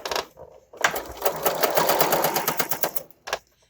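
A sewing machine double-stitching a tiny hem on a fabric safety mask, a rapid rhythmic run of needle clatter lasting a couple of seconds, bracketed by short bursts before and after.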